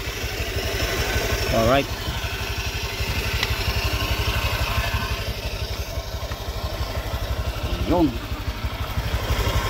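A motorcycle engine idles close by with a steady, even low thrum and no ticking from the tensioner, while someone talks over it throughout.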